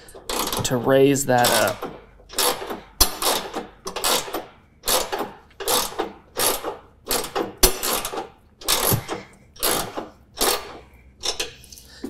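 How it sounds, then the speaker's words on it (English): A 15mm socket ratchet tightens a deck-levelling bolt on a John Deere S220 riding mower, clicking in a dozen steady, evenly spaced bursts close by, with a brief voice at the start. "we're gonna have is a 15mm socket, or you can do this with a wrench, and we're going to tighten this up"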